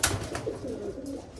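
Pigeons of show breeds such as malwai and Madrasi cooing in a loft, a soft low throaty burble continuing steadily at close range with no talk over it.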